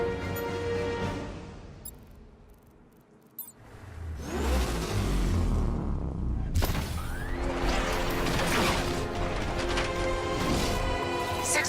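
A heavy tank engine rumbles and revs in Batman: Arkham Knight, rising after a quieter stretch, with crashing impacts and a steady mechanical drone.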